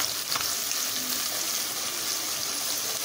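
Okra frying in oil over a high flame, a loud, even sizzling hiss that stays continuous throughout, with one brief clatter early on and no voices.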